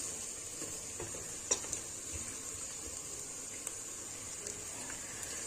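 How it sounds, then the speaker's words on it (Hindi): Two medium onions, finely chopped, sauté in a cup of oil for a mutton and beans dish, giving a steady, faint sizzle with a few scattered clicks and pops throughout. "सबसे पहले 2 मीडियम साइज के बारीक कटे हुए प्याज को 1 कप ऑयल में हम हल्का सा सौते करेंगे।"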